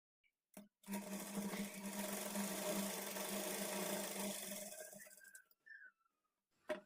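A sewing machine runs steadily for about four and a half seconds, stitching along the folded edge of a blouse strip, then slows and stops, followed by a few small handling clicks.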